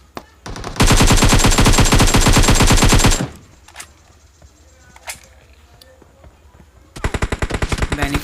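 Rapid automatic gunfire from PUBG Mobile, an M24 match: a loud sustained burst of closely spaced shots, a quieter lull with scattered faint pops, then another fast volley at the end.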